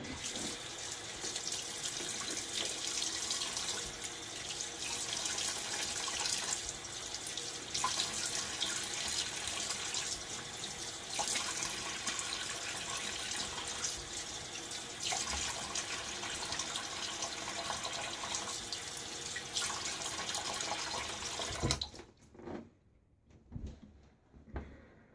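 Water running steadily from a bathroom tap while a Gillette 7 o'clock Black razor is rinsed, a continuous close splashing rush for about twenty seconds before cutting off into a few drips and knocks.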